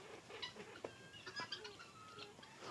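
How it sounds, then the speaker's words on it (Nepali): Faint, distant calls of a cock bird at a large kalij pheasant farm in Surkhet, a few short clucking notes scattered over soft outdoor background noise. "यहाँ भाले रहेछ।"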